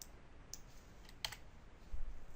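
A few sparse, soft key clicks from a computer keyboard, faint and close over a quiet room hush, with no one talking.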